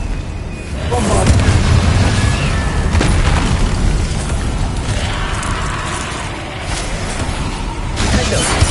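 A Bombarda blasting spell sets off heavy rumbling explosions in a Hogwarts Legacy battle, a sustained roaring boom with shattering debris and a few sharper bursts, loud and close, with shouted spell names over the din.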